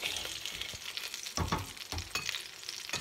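Duck breast sears skin-down in a pan as its fat renders, a close, busy crackle and sizzle with uneven pops and spits running throughout, quiet overall and without talk.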